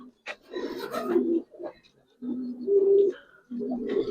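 Giribaz and colored pigeons coo in repeated low, throaty phrases, three or four rolling bouts with short pauses between, close and clear.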